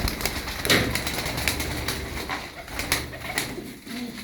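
Show tumbler pigeons in a loft give soft, low cooing calls, with occasional brief flutters of wings and some handling rustle close by, and no talk.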